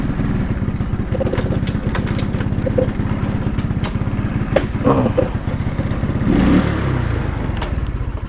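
A motorcycle engine idles steadily and close by as the rider parks on an uphill mountain path before dawn. The low rhythmic putter keeps going throughout, with a few clattering knocks and a slight swell toward the end.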